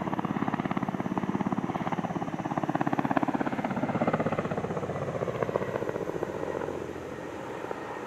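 A dual-rotor helicopter performs a flying display at the Dubai Airshow 2023, its rotors beating in a rapid, steady, loud thudding pulse that holds throughout and eases slightly toward the end.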